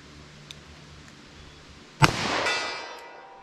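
A revolver fires a single shot of Underwood lead hollow point .38 or .44 Special ammunition: one sharp, loud crack followed by a short fading tail, after a quiet stretch.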